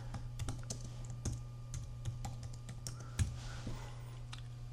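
Keys tapped on a computer keyboard in scattered, irregular clicks, fairly quiet over a steady background hum, with no talking.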